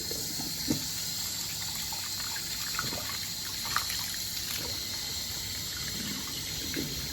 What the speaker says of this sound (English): I'm going to start lifting this one off the floor and I'm going to rinse it off.